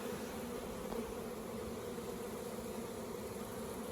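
Dense, steady drone of many honey bees buzzing around an opened hive, a continuous close hum with no pauses.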